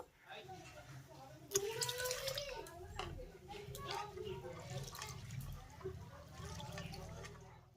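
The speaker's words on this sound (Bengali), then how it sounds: "সাবুদানাটাকে দুই তিনবার জল পাল্টে পাল্টে খুব ভালো করে ধুয়ে নেব" Sago pearls are washed in a large bowl of water, with soft sloshing, swirling and dripping close by. The sound is quiet and continuous, and a faint low voice sits underneath.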